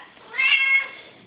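A cat gives a single short meow, close and clear against a quiet room.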